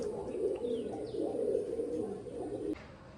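A pair of Andhra pigeons, male and female, coo in soft rolling bursts, close up and fairly quiet, with a faint chirp or two in the background and no speech.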